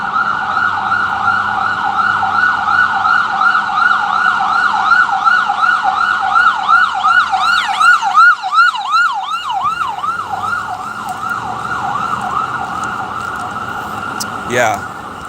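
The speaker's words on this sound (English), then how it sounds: "We always have ambulances going around." A wailing ambulance siren sweeps up and down repeatedly, loud and steady, with a faster yelp pattern in the middle and traffic rumble underneath.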